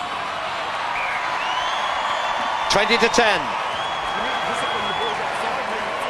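A stadium crowd at a Rugby World Cup 2003 match between Japan and the USA roars in a sustained wash of distant noise that swells briefly into cheering, heard under a commentator's voice.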